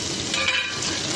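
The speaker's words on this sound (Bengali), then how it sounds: "আলুগুলোকে হালকা একটু ভেজে নেব" Potatoes fry lightly in a pan, giving a short, steady, close sizzle with no talking.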